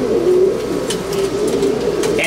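A pigeon, the father of an ash-grey racing bird, coos in low steady repeated phrases close by, with faint chirps of other birds in the background.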